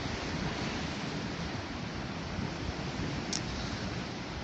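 Ocean waves wash steadily onto an Australian beach at sunset, a constant loud broadband roar of surf with no pauses and no voices.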